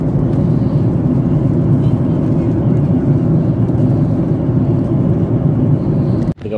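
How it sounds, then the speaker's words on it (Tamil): Airplane landing at Addis Ababa, Ethiopia, heard from inside the cabin as a loud, steady, broadband engine and air roar that continues without a break, then dips sharply near the end. "அங்கே வந்து லேண்டிங் ஆகுது"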